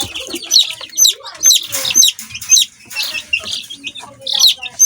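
About ten young, growing chickens cluck and chirp close by in quick, irregular bursts, with an occasional louder squawk.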